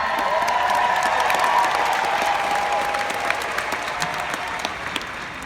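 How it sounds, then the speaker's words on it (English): A conference audience at GTC 2017 gives a loud, sustained round of applause with a faint cheer, the dense clapping holding steady before gradually thinning toward the end. "let's give them a big round of applause"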